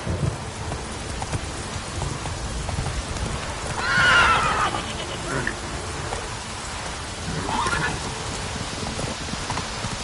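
Geralt's horse Roach neighs once in the Witcher game, a loud close whinny rising over steady rain and a low thunder rumble, with a fainter second horse call later.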